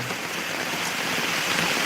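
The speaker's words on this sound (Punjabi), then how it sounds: "ਬਹੁਤ ਜ਼ਿਆਦਾ ਮੀਂਹ ਪੈ ਰਿਹਾ ਵਾ" Heavy rain pours down in Dhotian village, a dense, steady hiss of drops striking the ground that holds even and loud throughout without a break.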